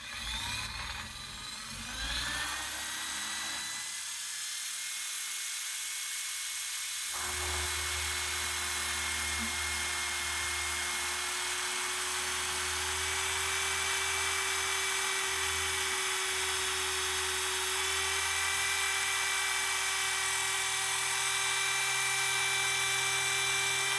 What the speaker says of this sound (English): I'm going to unplug the drill now if I have to drill again